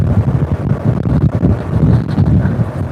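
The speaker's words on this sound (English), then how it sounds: "It's really windy." Strong wind buffets the microphone with a constant low roar and rumble, gusting unevenly throughout with no voices.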